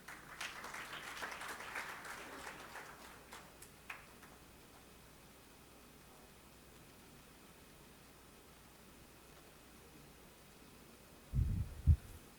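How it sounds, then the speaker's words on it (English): Scattered audience applause welcomes a speaker at a professional seminar. It fades within a few seconds and is followed by quiet room tone, then a couple of brief close thumps near the end. "I request all the members to welcome our today's first speaker with a huge round of applause"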